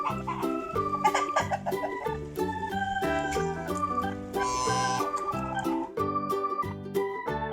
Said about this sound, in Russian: Это петух.